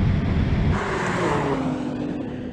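A BMW M4 accelerates hard in a drag race against another M4, its engine a loud, sustained roar that shifts character partway through and then slowly fades. No one speaks.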